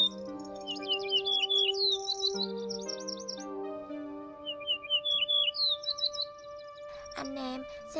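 Chim sẻ đồng vàng, a Vietnamese bird, sings repeated bright chirping phrases in close, clear bursts over a steady background, with a brief louder burst of noise near the end.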